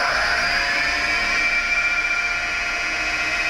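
Emcoturn 140 lathe spindle motor running at about 1000 RPM gives a steady, even, high-pitched electric whine with a constant hum beneath it, close and uninterrupted.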